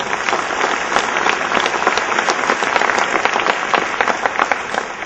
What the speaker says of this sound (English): Let us give them a big round of applause that they truly deserve.